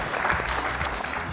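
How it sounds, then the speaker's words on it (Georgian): Studio audience applause in a television comedy show hall, a steady, dense wash of many hands clapping throughout, moderately loud and continuous with no speech over it. "აპლოდისმენტები შემიძლია დარბაზიდან მოგიძღნა არაჩვეულებრივი"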